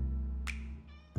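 A short, clear cat meow from the video game Wolfstride, a single bright mewl rising over a steady low background hum, with a brief second sound near the end.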